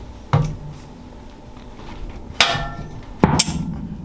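A spanner works cam bolts on a Nissan YD25 cylinder head, with three sharp metallic knocks and clanks, close and distinct, over a quiet workshop background with no talking.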